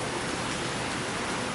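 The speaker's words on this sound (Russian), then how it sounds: "дождь. Опять все мокрое." Fairly heavy rain falls in Honolulu, Hawaii, a dense, continuous hiss of drops on surfaces, steady and close without pauses.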